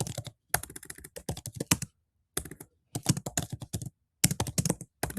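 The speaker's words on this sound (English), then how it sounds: "I'm going to type it now so I don't forget what I said here." Computer keyboard typing, close and clear, in quick bursts of keystrokes separated by short pauses, with no voices.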